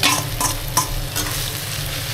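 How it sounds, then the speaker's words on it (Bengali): Eggs, onion and Maggi noodles frying together in a pan with turmeric, with a steady close sizzle and a few brief stirring scrapes throughout. "এই যে এখন ডিম ভাজার কাজ চলছে। এই এখন ম্যাগি দেওয়া হচ্ছে, ডিম পেঁয়াজ সব একসাথে ভাজা হচ্ছে।"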